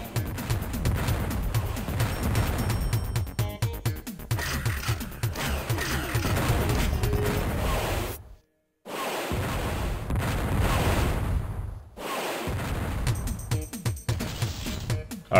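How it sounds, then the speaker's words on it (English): A dense, continuous roar of weapon fire and booming blasts fills the scene as homing missiles fire and explode in the video game Descent, broken by two brief gaps of near silence. "Oh, he's firing homing missiles."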